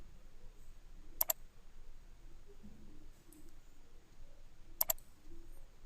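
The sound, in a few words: computer mouse clicking in vector drawing software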